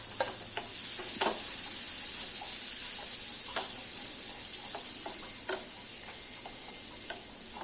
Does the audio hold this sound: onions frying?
yes